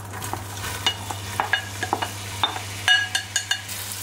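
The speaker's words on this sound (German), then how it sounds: "Auf jeden Fall einfach nur die Zwiebeln anbraten." Onions fry in olive oil in a pot: a soft sizzle with frequent sharp clinks and scrapes of stirring against the pot, close by and with no voices.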